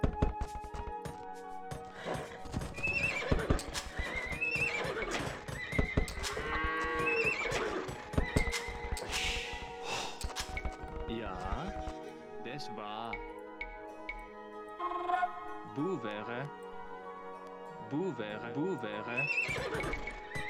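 Horses in Age of Empires 2 HD neigh and whinny repeatedly with clip-clopping hooves amid busy battle game sounds, while someone talks over them throughout.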